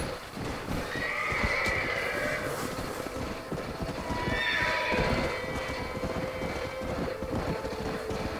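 A horse in the video game Red Dead Redemption gives two shrill whinnies over a continuous pounding gallop, loud and close, with no voices.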